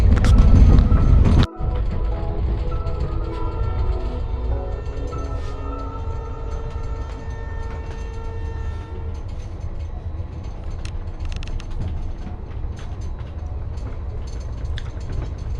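A Hyderabad Duronto express train rolls steadily as it picks up speed after leaving Nizamuddin, with a continuous low rumble and rattling of the carriage heard from inside, broken by a brief dip early on, and no talk.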